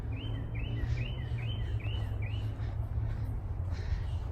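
Birds chirp softly during an outdoor nature walk: a series of about six quick, faint calls in a row over steady low background rumble.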